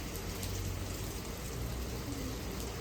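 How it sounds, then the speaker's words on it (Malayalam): Steady rain falls on a city street in Germany, a dense, even hiss with no breaks, fairly quiet and continuous throughout. "നല്ല മഴയാണ്"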